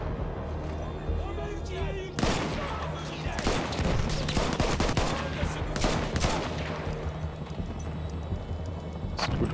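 Gunfire in the Battlefield 1 campaign: dense bursts of rifle and machine-gun shots crack in quick succession, loud and close, with rumbling battle noise and someone talking over the shooting.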